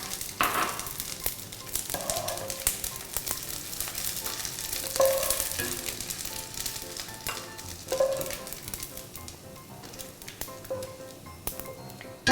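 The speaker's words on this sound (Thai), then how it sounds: "ใช้เวลานิดนึงค่ะ เพื่อให้กุ้งแห้งกรอบแล้วก็ไม่อมน้ำมันนะคะ" Dried shrimp frying in oil over medium-low heat until crisp give a continuous close sizzle, with occasional stirring clinks and scrapes in the pan and no talking.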